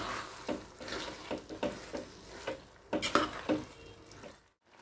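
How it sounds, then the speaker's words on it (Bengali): Tadka being stirred and mixed in a pan, a quiet, close sequence of rhythmic scraping strokes over a soft sizzle, with a brief silence at the end; no one talks. "এবার একটু ভালো করে নাড়িয়ে মিশিয়ে দিচ্ছি।"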